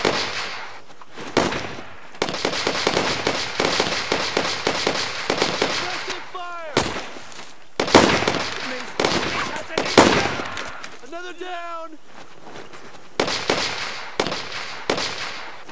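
Dense bursts of rifle and machine-gun fire during a World War II firefight in Brothers in Arms: Road to Hill 30, rapid overlapping shots with brief lulls, and shouted soldier voices mixed in.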